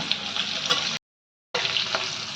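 New potatoes, coated with turmeric, fry in a pan with a steady close hiss and crackle, cut by a brief silent gap before the sizzle resumes.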